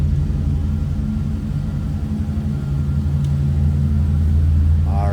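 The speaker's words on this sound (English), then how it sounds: "It's not over the top exhaust wise, no big heavy cam. Just a nice sounding truck." A 1952 Chevrolet 3100 Stepside street rod pickup with a mild exhaust and no big cam idles close by with a steady, deep, low rumble and no voices.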